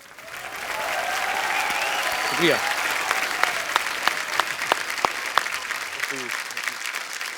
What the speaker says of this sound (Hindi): जोरदार तालियां एक बार हो जाए